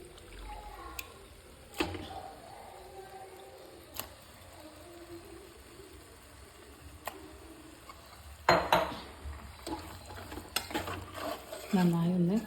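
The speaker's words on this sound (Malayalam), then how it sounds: "നന്നായി ഒന്ന് മസാലയിൽ മൊത്തത്തിലൊന്ന് പിടിക്കുന്ന രീതിയിൽ നമുക്കൊന്ന് ഇതിന്ന് ഇളക്കി കൊടുക്കാം" Goat tripe (botti) being stirred into masala in a pan for a Kerala-style curry: a faint background sizzle with scattered spoon scrapes and clinks against the pan, growing busier toward the end.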